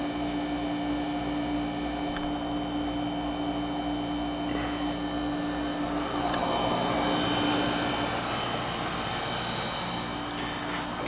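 A Carlin oil burner furnace runs with a steady, continuous roar and hum, holding an even level throughout with no voices.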